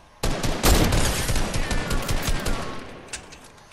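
Video game gunfire breaks out suddenly, a dense volley of rapid shots that stays loud and close for several seconds before easing slightly at the end.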